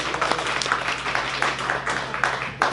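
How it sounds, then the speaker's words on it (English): A room full of people at a community meetup applauding, steady clapping throughout at a lively, even level. "I do also want to ask for a round of applause"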